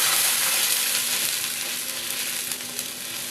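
Boiled milk pours into a hot pan for payesh, a Bengali rice pudding. A steady, close sizzling hiss runs throughout with no voices.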